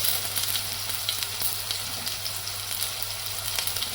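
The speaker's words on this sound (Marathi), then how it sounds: "आता परतून घेते याला" Chopped onion, tomato and chili sautéing in a pan for masala pasta, a soft, even sizzle with light crackles and a low steady hum beneath, fairly quiet and without speech.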